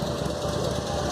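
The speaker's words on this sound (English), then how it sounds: "You can hear him idling right now." A small three-wheeler car idles on a London street, a steady buzzing engine hum heard nearby amid traffic noise for a brief moment.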